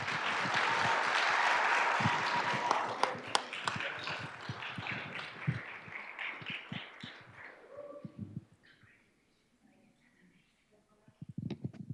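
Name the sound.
audience applause at a school board meeting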